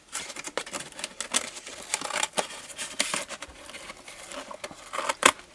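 Scissors snipping and tape crinkling as paper and tape are cut for a homemade paper mache top hat, a busy run of close, crisp cuts and rustles with short pauses between them.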